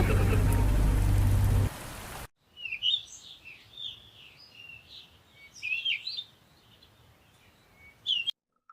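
Heavy rain pours loudly for the first couple of seconds, then cuts off, leaving faint background hiss with scattered bird chirps and a sharp final burst.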